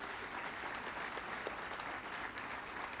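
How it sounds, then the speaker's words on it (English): A crowd applauds during a university address, with a steady, fairly distant patter of many hands clapping evenly throughout and a few sharper claps standing out. "Give them a round of applause,"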